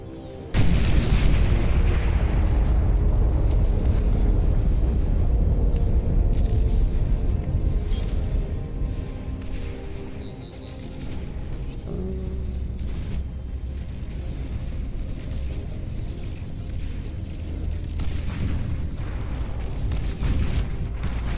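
Nuclear launcher strikes thunder in the strategy game Beyond All Reason, a massive blast hitting suddenly then rolling into a long, heavy rumble with crackling debris, staying loud and dense for the whole stretch.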